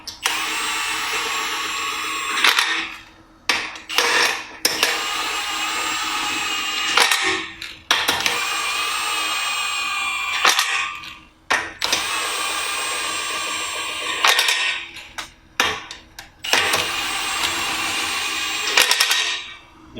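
Pneumatic torque tool on its lowest setting tightens truck wheel bolts in a crosswise pattern, loud rattling impact bursts of a few seconds each, repeated about eight times with brief pauses between, no talk.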